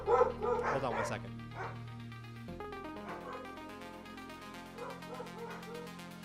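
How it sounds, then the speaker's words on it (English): Several dogs bark and yip excitedly at something outside, a loud burst of barks up front easing into scattered, quieter yips and whimpers, with someone talking over them throughout. "My dogs are going ballistic."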